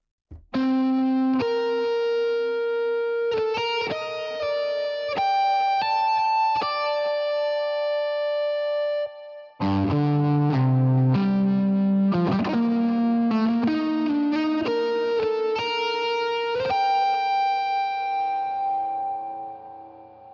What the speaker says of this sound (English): this is the patch that I'm using multiple times in my album, just a really cool electric guitar feel